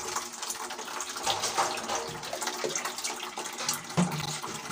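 Water gushes steadily from a pipe as a pump kicks on and starts delivering, a continuous close splashing flow with occasional gurgles.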